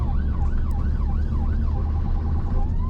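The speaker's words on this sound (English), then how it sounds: "Can hear the siren cadence. I do like the siren cadence." A UK ambulance siren wails steadily during a chase, its pitch sweeping up and down in a regular cadence over loud engine and road rumble, close and continuous.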